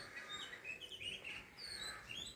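Small birds chirping in quick high tweets, a baby bird and its mother calling near a house, with a steady faint background hiss and no voices.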